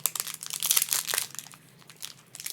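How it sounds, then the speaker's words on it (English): Foil wrapper of a 1993 SkyBox trading card pack being crinkled and torn open up close, with a steady run of sharp crackling and rustling that eases off toward the end. "I know how to open foil."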